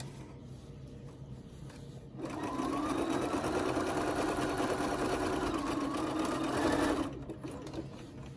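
A sewing machine runs a steady zigzag stitch along the seam of a crochet panel bag, a close, even mechanical whir lasting about five seconds between quieter pauses.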